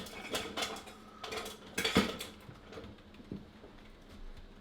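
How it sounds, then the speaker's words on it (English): A whisk clinks and scrapes in a bowl as powdered sugar, vanilla, milk and butter are mixed into a donut glaze, in quick bursts of rattling strokes close up. "you just whisk it all together. Make a thin glaze."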